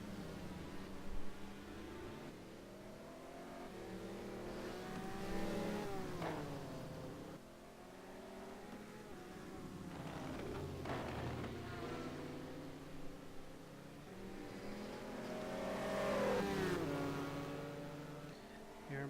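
Ferrari and Koenigsegg GT1 race cars in a racing video game at Okayama, engines droning and revving with rising and falling pitch sweeps at moderate level throughout, like a continuous race broadcast; no talk.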